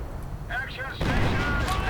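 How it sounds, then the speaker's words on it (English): Sniper fire in a World War II real-time strategy game, a sharp crack followed by a loud broadband rumbling report, heard partly under a commentator's speech. "More sniper fire."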